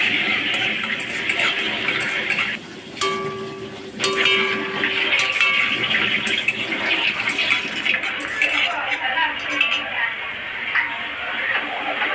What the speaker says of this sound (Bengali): তো আমি এখানে বড়িটা ভেজে নেব।